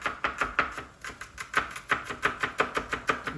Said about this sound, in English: And then all we want to do with the garlic is once again just chop that down